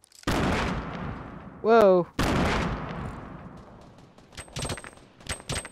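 Bursts of gunfire in Fortnite ring out close and loud in rapid volleys, broken by a short shouted exclamation, with fainter distant shots trailing off afterward.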